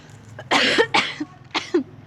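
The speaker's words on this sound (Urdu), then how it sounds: "کب سے میں نے کھانسی روک کے رکھی تھی۔" Three harsh coughs in quick succession, close and loud, with short pauses between them.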